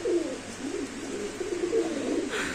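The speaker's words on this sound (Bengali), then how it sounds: "এই যে কবুতরা ডাকতেছে" A pair of working pigeons coos in soft, repeated throaty phrases nearby, quiet and without speech.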